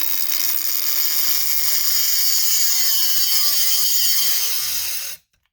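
An M12 3-inch cut-off tool grinds into an old chainsaw wrench, a loud, high-pitched whine that holds steady, then sags in pitch as the tool bogs down under load before cutting off abruptly into silence.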